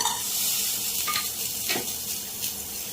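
Coriander seeds, cumin and coconut pieces are dry-roasted and stirred in a pan, giving a close, continuous light sizzle with a few brief scraping and rattling strokes of the spoon.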